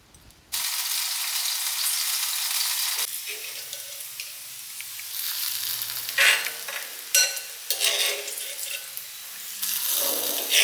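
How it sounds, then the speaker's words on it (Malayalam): Small onions dropped into hot coconut oil for a tempering, bursting into a loud, close, steady sizzle that runs on with occasional stirring clatter and crackle spikes. "ഇനി നമുക്ക് വറവിടണം വെളിച്ചെണ്ണയിൽ ചെറിയ ഉള്ളി"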